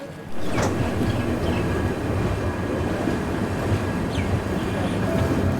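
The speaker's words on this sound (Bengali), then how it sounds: "দাঁড়িয়ে তার গন্তব্যের দিকে আবার রওনা দিয়ে দিয়েছে" Passenger train pulling away from a hill station on the line from Visakhapatnam to Araku Valley, a steady loud rumble of wheels and carriages with faint squeals, continuous and close throughout.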